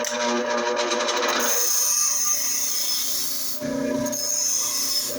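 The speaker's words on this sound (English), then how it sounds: "this grinder is designed really to only be used with tungsten. And you're going to do a vertical grind only" A bench grinder dedicated to sharpening tungsten TIG electrodes runs steadily with a loud, continuous abrasive whine and rasp as a rod is ground vertically to a cone, briefly dipping before resuming.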